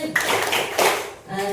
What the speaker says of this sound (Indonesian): Yuk, anak-anak yang hebat tepuk tangan.